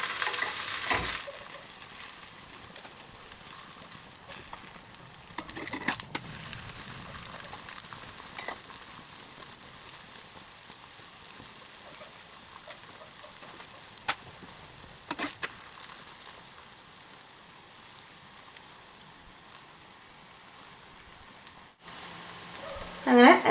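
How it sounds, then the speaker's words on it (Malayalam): Porotta flatbread fries in oil on a pan with a soft, steady sizzle throughout. Occasional brief clatters and scrapes break in, and a louder knock comes near the end. "അങ്ങനെ രണ്ട് വശവും നന്നായിട്ട് വേവുന്നത് വരെ നമുക്കിതിന് ചുട്ടെടുക്കാം"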